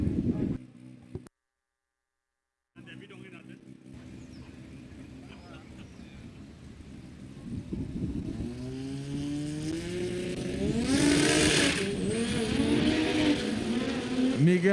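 Big Block piston and rotary engine cars at a drag race roar and rev with rising engine pitch, building louder toward the end. An announcer talks over them after a brief silent gap near the start.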